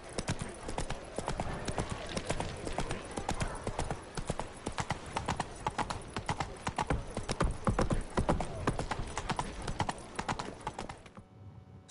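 Roach, a horse in The Witcher 3, gallops with rapid, rhythmic hoof clip-clops throughout, loud and close, with a brief whinny-like texture mixed in and a voice speaking over the hoofbeats.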